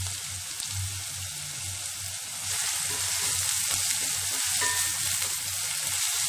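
Two large sliced onions fry in oil in a pan for pepper chicken, a steady close sizzle and crackle that grows slightly louder halfway through, with no talking.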